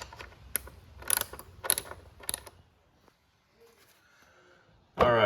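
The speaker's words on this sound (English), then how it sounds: "I'm gonna go around the side removing these bolts." A ratchet wrench clicks in short bursts while 10mm bolts are removed from a Cub Cadet RZT mower, with several close rapid ratcheting runs, a quieter pause with faint rattles, then a sudden loud clatter at the end.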